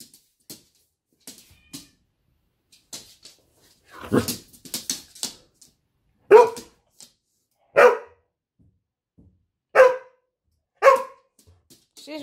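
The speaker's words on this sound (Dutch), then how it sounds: "Blaffen, man." Several loud, close dog barks ring out in separate bursts, after a stretch of faint scuffling and a few small whimpering yips, spaced a second or two apart indoors.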